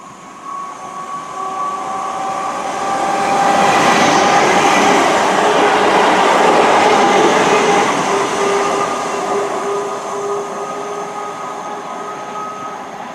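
A train at a Scottish railway station gives a loud, continuous rumble that swells to a peak and slowly eases off, with no voices.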